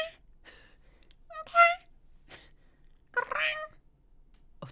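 A person imitates a cat's meow to coax a cat closer, giving a few short, breathy meow-like calls separated by pauses, close and fairly quiet.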